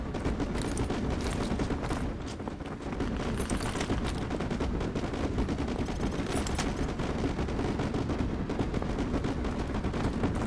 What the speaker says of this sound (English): Ramirez, use your laser designator to call in artillery on those vehicles.